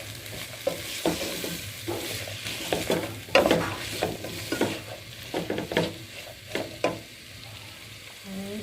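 Vegetables and rice for vegetable khichuri frying together in a pan, a soft sizzle broken by irregular scraping stirs of a spoon, close and moderately loud.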